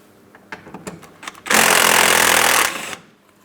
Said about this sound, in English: you're going to find that you have two T20 Torx screws that need to be removed. We'll go ahead and remove the pair.